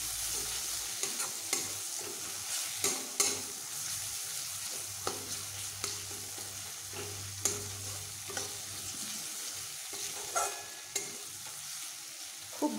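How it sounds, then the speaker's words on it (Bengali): A spice paste (masala) sautéing in a pan with steady sizzling and repeated scraping strokes of a spoon or spatula, close and fairly loud, with no talking. "এটিকে আমি এখন খুব ভালোভাবে এইভাবে কষিয়ে নিচ্ছি।"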